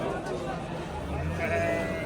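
Sheep bleat close by at the Angren livestock market amid busy bargaining chatter and crowd noise.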